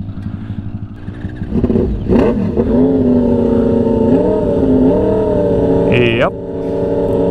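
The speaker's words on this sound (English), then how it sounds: "sounds like an R1 engine in a frame. Looks like aftermarket frame, but he's got nitrous on this thing." Yamaha R1 motorcycle engine in an aftermarket frame fitted with nitrous, running at a sand dune area, loud engine drone rising and falling in pitch with revs, one sharp high rev near the end, and a brief voice over it.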